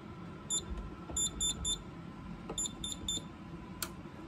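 A Scantronic SC800 alarm panel beeps as it is armed, giving a close series of short, high electronic beeps in two bursts over a low hum. A sharper single beep follows near the end.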